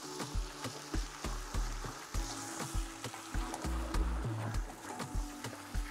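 Minestrone soup being stirred in a pot gives off quick, rhythmic thuds and scrapes, close and fairly loud, over a soft bubbling sizzle.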